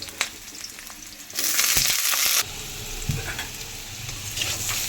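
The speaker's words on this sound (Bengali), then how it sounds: "এখন আমি আলুগুলো এক এক করে ভেজে নিচ্ছি" Potato pieces lightly seasoned with turmeric and salt frying one by one in hot oil, a close steady sizzle that surges loudly for a moment as more pieces go in, with light stirring clinks.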